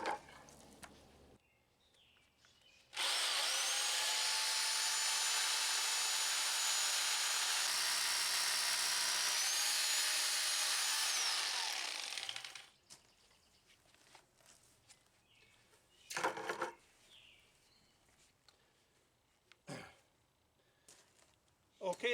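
A power drill bores holes in rock for feathers and wedges, a loud sustained high-pitched whine for about ten seconds, followed by quiet handling noises and a few brief knocks.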